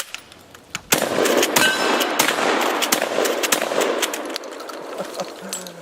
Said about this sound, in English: I shouldn't have shot a slug at that plate that quick.